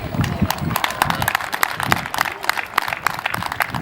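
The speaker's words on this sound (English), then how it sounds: "your board here deserves a big round of applause for what they've done to get you here today" Crowd clapping at a Little League opening day ceremony, a dense, close spatter of many hands beating steadily and loudly throughout with no pause.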